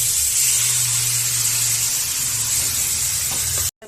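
Marinated raw fish going into hot oil in a kadai, a loud, steady close-up sizzle and hiss that runs unbroken before cutting off abruptly at the end, no talking.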